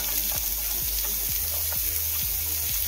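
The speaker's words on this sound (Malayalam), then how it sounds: "വഴറ്റണം നന്നായി വഴന്ന് വരെ" Carrots sautéing in a pan for beef biryani, a loud continuous sizzle with a regular scraping stir every half second or so, close up with no talk.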